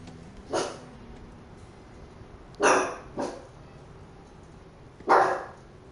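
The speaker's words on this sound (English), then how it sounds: "Dog's barking at something." A dog in the video game Borderlands 3 lets out four sharp barks, spaced irregularly over a low steady background hum, fairly close and with no talking.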